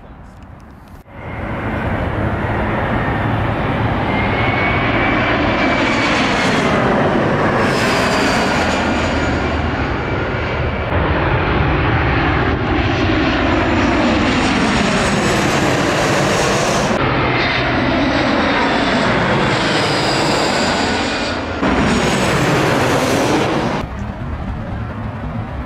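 Loud, continuous roar of jet engines as airliners fly in to land at LAX one after another, the pitch sweeping down as each plane approaches and passes overhead.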